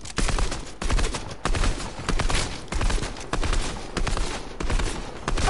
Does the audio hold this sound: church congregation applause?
no